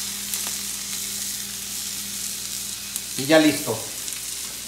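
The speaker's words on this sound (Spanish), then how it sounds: "Mientras las papas están terminando de freír" Potatoes fry in hot oil in a pan with a steady close sizzle, and a brief burst of stirring or bubbling near the end; a voice speaks a few words.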